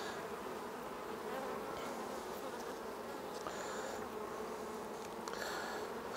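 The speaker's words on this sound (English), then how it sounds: "The bees seem to be a lot calmer this time round." Honeybees buzz steadily and densely around an open hive during an inspection, a constant close insect drone with no talking over it.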